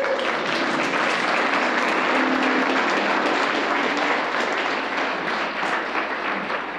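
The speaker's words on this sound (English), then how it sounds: "Let's get a round of applause for Jerrod first." Audience applause following a talk at a NetDevOps Days conference in New York, a dense, steady wash of many hands clapping for the full length, tapering slightly near the end.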